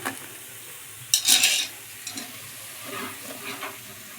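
Vadas frying in a pan: a sharp, loud hissing burst of oil that fades into a softer, uneven sizzle, close by and with no voices.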